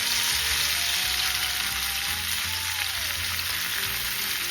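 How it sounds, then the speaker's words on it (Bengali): Potatoes and okra hit hot oil with two dried chillies, giving a continuous, fairly loud sizzle and hiss that runs evenly throughout with no voices over it. "এবার আস্তে আস্তে আলু আর ঢ্যাঁড়সটা তেলের মধ্যে দিয়ে দেবো।"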